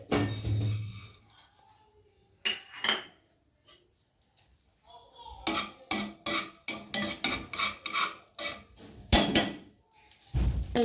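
Mustard seeds crackle and pop in a spoonful of hot oil for a Kannada-style thin sambar tempering, with sharp irregular spitting bursts that come in clusters after a quiet start.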